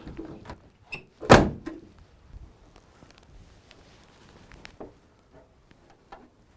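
A single loud door slam from a 1930s Volvo car stands out among a few softer clunks and rattles, with quiet handling noises before and after.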